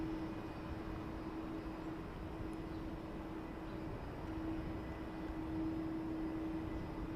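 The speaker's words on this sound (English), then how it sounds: "A330." An Airbus A330 airliner at Heathrow Airport gives a steady, distant jet roar with a constant engine whine, holding an even level throughout without voices.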